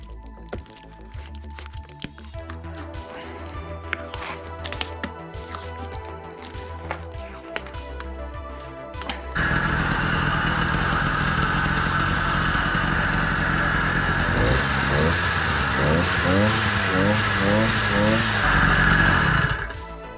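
A 100cc motorized vintage bike engine cranks with clanks and clicks, then fires up abruptly and keeps running at a steady, loud, buzzing idle with rising revs near the end.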